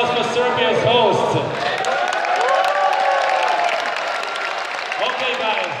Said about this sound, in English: one big round of applause for Serbia's host.